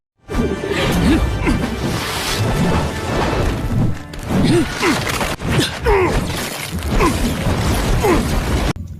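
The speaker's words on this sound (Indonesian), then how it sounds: "Tang San mengeluarkan palunya dan memukulinya sampai hancur." Hammer blows smashing an opponent during an anime battle, a dense run of crashing, shattering impacts and whooshes layered over loud action music and effects, continuous for several seconds.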